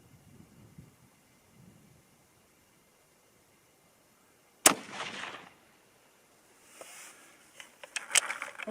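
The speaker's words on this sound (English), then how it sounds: "let's go ahead and test these first shots. This is the 120 grain Sierra." A single sharp 6.5 Creedmoor rifle shot firing a 120 grain Sierra load cracks loudly outdoors after a quiet stretch, followed by rustling and handling noise.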